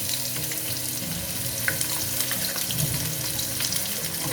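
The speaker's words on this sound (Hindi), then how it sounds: "प्याज को हम थोड़ा सुनहरा होने तक पकाएंगे।" Chopped onions sizzle in about two and a half spoonfuls of hot oil in a pot, a dense steady frying hiss with scattered crackles and pops, close and continuous throughout.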